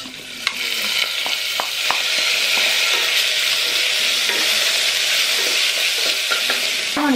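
Rice goes into hot ghee with cumin and sizzles loudly and steadily, with scraping spoon strokes and light clinks as it is stirred and fried, close to the pan.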